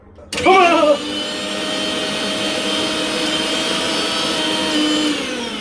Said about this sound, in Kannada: ಮಿಕ್ಸಿ ರೆಡಿ ಮಾಡ್ಸ್ಕೊಂಬಂದಿದ್ದೀನಿ ಇವಾಗ ಟೆಸ್ಟ್ ಮಾಡಬೇಕು